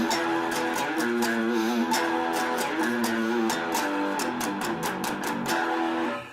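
The main riff of a song played on guitar: a repeating low, chugging figure with rhythmic palm-muted hits, steady and close, no voices.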